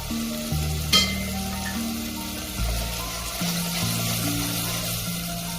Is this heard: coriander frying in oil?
yes